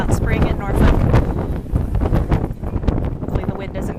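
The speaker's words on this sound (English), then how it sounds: "Hopefully the wind isn't gusting too much." Spring wind gusting outdoors in Norfolk buffets the microphone with loud, continuous low rumble and bursts throughout, mixed with a voice talking.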